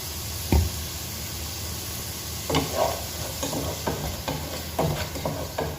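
Ingredients fry in a pan for a Mangalore-style crab curry, giving a steady soft sizzle with occasional knocks and scrapes of a spoon stirring.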